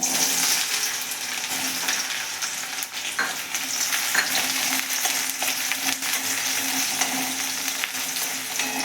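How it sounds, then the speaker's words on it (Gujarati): Onions sauté in about three spoons of oil in a pan for Kathiyawadi kaju gathiya shaak, giving a steady, loud, close sizzle with occasional faint scraping from stirring and no talking. "આપણે ત્રણ ચમચી જેટલું અહીંયા તેલ લીધું છે ડુંગળી સાતડવા માટે"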